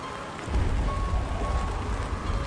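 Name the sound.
heavy rain with strong wind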